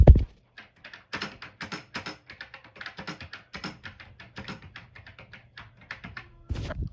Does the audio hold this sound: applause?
no